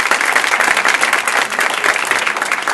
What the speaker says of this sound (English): Let's thank Commissioner Hanslick for being here.